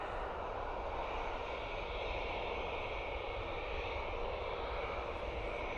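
An airliner's engines roar at Dublin Airport, a loud, steady broadband rumble that holds without a break and stays near.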